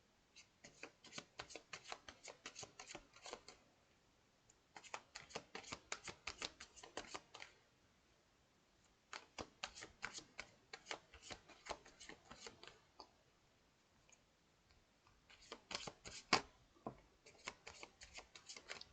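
Tarot cards are shuffled for a reading in several quiet, close bursts of rapid riffling and flicking, separated by short pauses.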